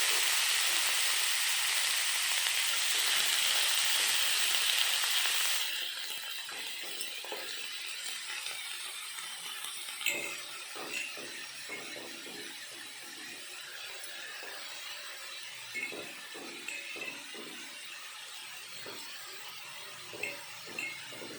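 Shredded cabbage for a village-style cabbage curry sizzling in a hot pan, a bright hiss at the start that settles into a softer, steady frying crackle, broken by occasional clinks of a utensil stirring against the pan.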